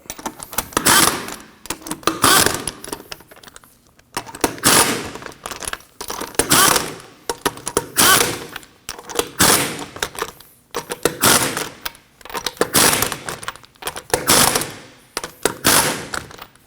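Bolts on a 2003-2006 Subaru Baja front brake caliper are snugged up with a power tool in repeated loud, close bursts of rattling impact, about eight separate runs separated by short pauses.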